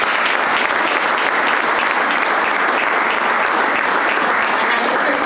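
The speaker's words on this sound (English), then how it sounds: "everyone, please join me in a round of applause" An audience at a county agriculture awards ceremony applauds steadily throughout, with dense, sustained clapping from a large crowd and no break.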